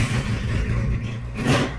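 Regal Raptor cruiser motorcycle engine revving up close, a steady low rumble that swells into a louder rev near the end, with no talking.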